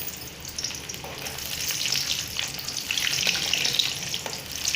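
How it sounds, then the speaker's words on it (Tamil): Mustard seeds and lentils splutter and sizzle steadily in hot oil for a tamarind rice paste, a dense, continuous crackle with no talk. "கடுகு நல்லா பொரிஞ்சு வரட்டும்"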